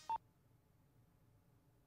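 A phone keypad gives a single short electronic dialing beep as a number is entered, then near silence follows.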